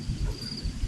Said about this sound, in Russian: Зато тут вот на поле разные кузнечики туда-сюда